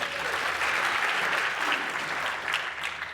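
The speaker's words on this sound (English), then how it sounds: "Yes, round of applause, we got some great tools" Steady audience applause fills a conference hall after a talk on inclusive project management, a dense, even wash of many hands clapping at constant loudness with no speech over it.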